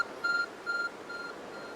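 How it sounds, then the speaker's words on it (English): A glowing object in Pokémon Legends: Arceus gives off two clear, evenly spaced electronic beeps, then a fainter third, over a steady background hum. "There's a glowing beeping object over there."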